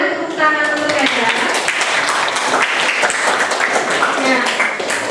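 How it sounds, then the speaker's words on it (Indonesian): Students in a classroom applaud a classmate with a steady, dense round of clapping lasting several seconds, close and moderately loud, with some voices mixed in. "Boleh tepuk tangan untuk Henda"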